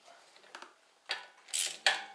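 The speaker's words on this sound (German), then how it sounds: "Wir ziehen die Muttern mal so weit fest, wie es mit der Hand geht." Porsche 944 wheel nuts being spun on and tightened by hand in a star pattern: a few short metallic ratcheting clicks and scrapes, close up and fairly quiet, with no talk.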